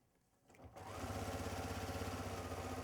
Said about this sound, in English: we are sewing all the way around the top